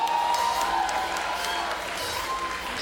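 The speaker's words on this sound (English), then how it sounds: "Let's have a round of applause." Applause from an audience at a live show, a continuous wash of clapping and crowd murmur with faint cheers, steady for a few seconds.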